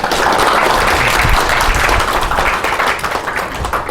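Audience applause welcoming a city council member as lecturer at a housing-related training session, a burst of clapping from a seated crowd that thins toward the end.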